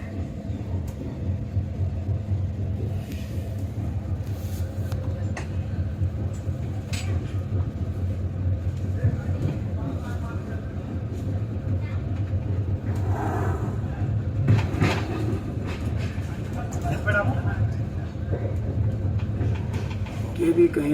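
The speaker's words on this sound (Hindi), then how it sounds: "स्वराज एक्सप्रेस जिसमें हम ट्रैवल कर रहे हैं, ये ट्रेन भी राजधानी की तरह ही" Swaraj Express passenger train moving slowly along the rails at dusk, a steady loud low rumble with faint clickety-clack from inside the carriage throughout.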